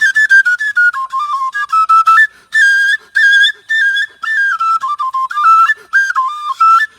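An Igbo oja flute plays a bright, piercing melody of short phrases and rapidly shifting notes, loud and close, with brief pauses and no voices.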